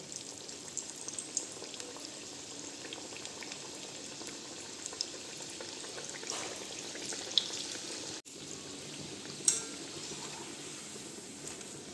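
Puffed rice chops deep-fry in hot refined oil in a kadai, making a steady, fairly quiet bubbling sizzle that stays even throughout, with a couple of faint clinks.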